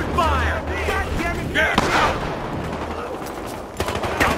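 Gunfire in the video game Battlefield Hardline, with bursts of automatic shots and scattered pops mixed with game noise and voices, continuing across the moment at moderate loudness.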